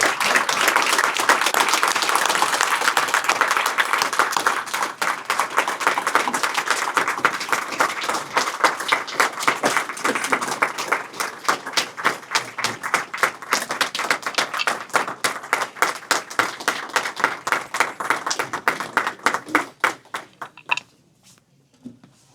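A standing audience at a city appreciation dinner in Jefferson, Wisconsin, gives a long round of applause for the Citizen of the Year. Dense, loud clapping thins into distinct rhythmic claps toward the end, then fades out.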